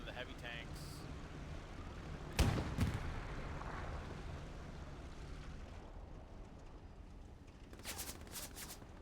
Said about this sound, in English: AT gun from the east smacks one of the heavy tanks.